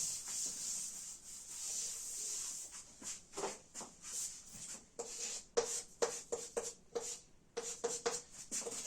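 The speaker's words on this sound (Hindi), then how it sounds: "रब कर देता हूं मैं एक बार सब।" A cloth or duster rubs writing off a classroom board in repeated short strokes, near and fairly quiet, with bursts of scraping through the middle and end and no talking.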